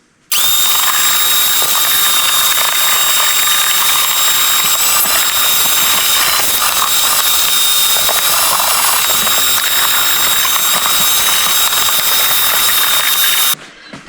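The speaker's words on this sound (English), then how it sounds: "we will go ahead and vacuum all of the carpet" A vacuum cleaner runs loud and steady with a high motor whine for several seconds on a car's cargo-area carpet, then cuts off abruptly.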